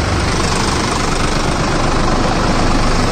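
A Sonalika tractor engine runs under steady throttle, a loud, close, continuous rumble that does not change throughout, with no voices heard.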